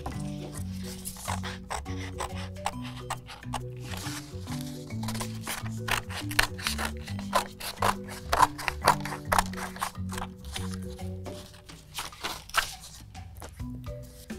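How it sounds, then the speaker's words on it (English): Scissors snipping out a paper rectangle for a craft puppet theater, quick irregular crisp cuts close by, with a soft musical backing underneath. "Next, you're going to cut out another rectangle."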